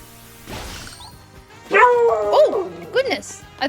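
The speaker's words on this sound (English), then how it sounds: "I thought I heard a dog bark." A pet corgi barking indoors, a few short close yips and barks following a quieter stretch, loud and alone without talk.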